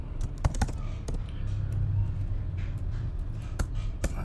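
Flutter app code typed on a computer keyboard, with a short run of close, crisp key clicks in an uneven rhythm over a low background hum.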